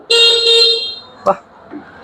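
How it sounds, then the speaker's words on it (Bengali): An electric three-wheeler bike's horn sounds one loud, steady tone held for about three quarters of a second, followed by a short thump and a faint click nearby. "তারপর এখানে হর্ন সুইচ আছে।"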